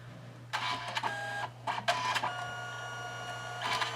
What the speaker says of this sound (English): it is talking to my Selphy. And we should be printing in a moment.